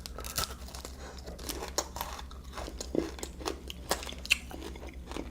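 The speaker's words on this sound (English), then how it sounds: "what's the magic about a Crispy Crunch is the Crispy Crunch" Someone bites and chews a Crispy Crunch chocolate bar up close, giving a steady run of sharp crunches and crackles with no talking.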